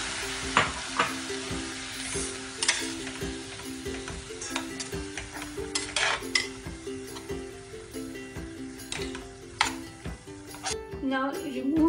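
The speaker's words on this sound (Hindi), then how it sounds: "now I will be adding tomatoes in this and mix well for about 4 to 5 minutes" Chopped tomatoes go into a pan of cooking onions and capsicum for a light pasta sauce, sizzling up close while a spatula scrapes and taps against the pan in uneven strokes.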